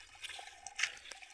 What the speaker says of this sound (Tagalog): Naay mo agas ang tubig.